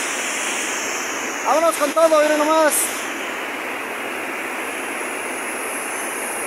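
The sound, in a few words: river water flowing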